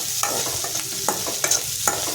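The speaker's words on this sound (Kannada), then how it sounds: "ನೋಡಿ, ಈ ಥರ ಚೆನ್ನಾಗಿ ಫ್ರೈ ಮಾಡ್ಕೋಬೇಕು." Onion and green chillies frying in a pan for shavige uppittu, with a steady close sizzle and a few light scrapes of a stirring spoon.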